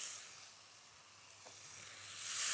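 Fresh tomatoes sizzling in a hot non-stick sauté pan for a butter cauliflower curry, a soft continuous hiss that swells a little toward the end.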